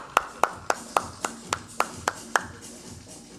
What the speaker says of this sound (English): Let's give a huge round of applause for him.